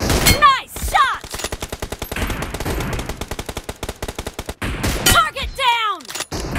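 Gunfire in an M24 sniper rifle challenge in a video game, loud rapid bursts of shots, with voices talking over the first and last few seconds.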